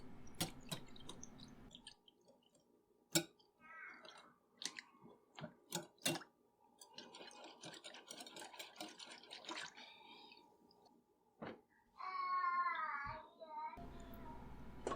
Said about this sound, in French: non, ce n'est pas un chat dans le fond sonore. C'est ma fille qui a à peu près 1 an.